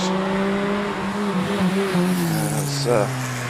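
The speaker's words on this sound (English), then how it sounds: "Just warming the tyres a little bit on his approach to the start line" A Porsche race car warms its tyres approaching the start line at the Prescott hill climb, its engine droning and shifting in pitch nearby as a commentator talks over it.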